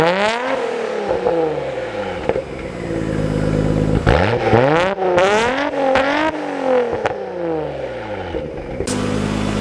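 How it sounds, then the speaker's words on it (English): A Nissan Skyline R33 GTR engine with a titanium exhaust and turbos revs hard in a series of loud, close throttle blips that rise and fall, with whirring turbo sounds between them. "And you can hear the turbos too."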